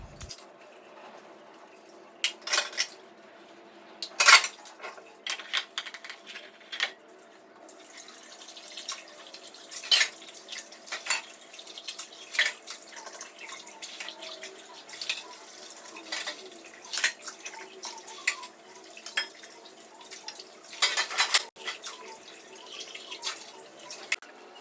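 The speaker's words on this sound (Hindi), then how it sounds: "साफ़ कर करके मैं वॉश करती जा रही थी और फिर इनको धुलती जा रही थी पानी से।" Dishes being washed at a home kitchen sink, with soft irregular drips and splashes of running water and clinks of utensils at moderate distance, continuing steadily without speech.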